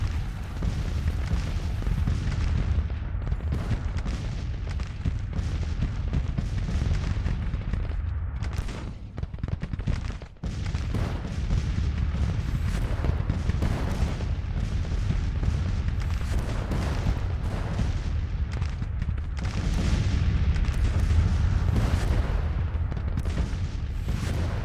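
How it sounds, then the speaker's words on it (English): Cannon fire in the Grand Tactician: The Civil War game rolls on heavily, with booms and volleys from more than 100 guns overlapping into a dense, continuous barrage. A brief lull comes near the middle before the firing builds up again. "A lot of artillery fire this battle, but they got over 100 guns on the field to our 63 or something like that."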